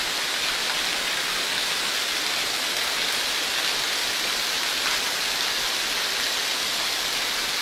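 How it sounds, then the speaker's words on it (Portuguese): Steady, dense rain pours down without pause on a school building with a leaking roof, a broad hissing wash of water drumming on surfaces close by. "durante uma chuva"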